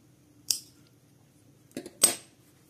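Scissors snipping through material while making a child's Crocs-style shoe, three quiet, sharp cuts close by, one alone and then a quick pair, with near silence between them.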